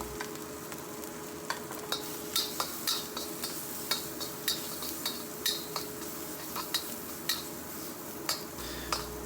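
Garlic and shallots stir-frying in oil in a wok with Chinese sausage for fried rice, a steady soft sizzle punctuated by repeated scraping clicks of a spatula against the pan at an uneven rhythm.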